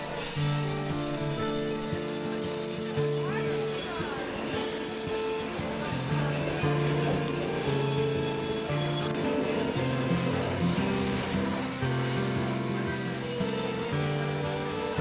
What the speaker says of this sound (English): a now nearly empty train headed back down almost immediately to clear the platform for the mainline train